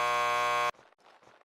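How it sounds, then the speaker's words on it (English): A loud, steady electric door buzzer at a lockup in the Max Payne 2 video game sounds for about two-thirds of a second, then cuts off sharply into a few faint trailing noises. "Just press the buzzer by the door."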